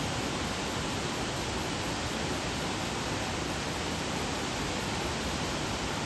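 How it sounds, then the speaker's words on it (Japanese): A three-tiered mountain waterfall in the northern foothills of Japan's Southern Alps pours into emerald pools, making a steady, unbroken roar of rushing water close by with no voices. "この神社滝ですが、ご覧の通り三段の滝になっています。"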